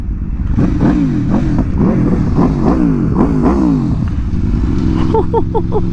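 An Aprilia RSV4 motorcycle fitted with a Spark titanium full exhaust revs hard and close, giving a string of sharp, rising and falling throttle blips followed by a quicker burst of short revs, loud and with no talking.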